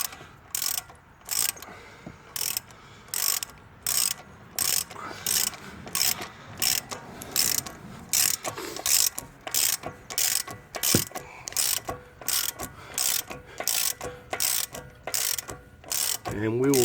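Rapid ratchet clicking in steady bursts as a 32 mm socket tightens the CV axle nut on a 2013-2017 Ford Escape, close and loud with brief pauses between strokes.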